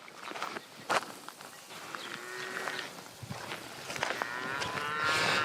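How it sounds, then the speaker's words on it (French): Cows mooing in a field near a small pond, several drawn-out moos at close to middle distance, with rustling steps between calls and no talk. "Ah c'est dingue les vaches hein."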